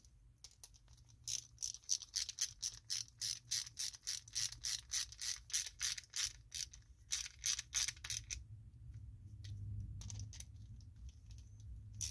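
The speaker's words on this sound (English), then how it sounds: "Tighten them down." Ratchet tightening carburetor bolts on a Bolens four-and-a-half push mower: a rapid, steady run of close metallic clicks for about seven seconds, then stopping, leaving low background hum.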